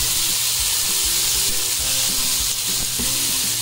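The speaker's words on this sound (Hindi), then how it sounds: "टमाटर इसे भी मीडियम फ्लेम में अच्छे से सोटे कर है" Tomatoes with garlic and ginger sauté in a pan over a medium flame, giving a steady close sizzle and hiss with soft stirring scrapes throughout, no voices.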